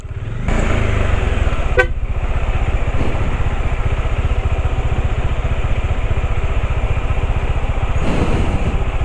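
A motorcycle's engine rumbles steadily and close by on a road near a 200-meter hanging bridge, with a short horn toot early on and no talking over the continuous drone.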